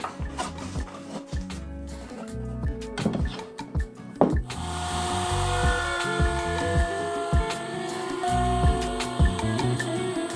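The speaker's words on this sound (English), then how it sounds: "When it was time to flush trim the straight pieces, I needed a way to stabilize them on the router table." Router spinning up and flush trimming straight MDF-clamped wood pieces on a router table, a steady loud high whine with cutting bursts after an initial stretch of clattering workshop handling noises.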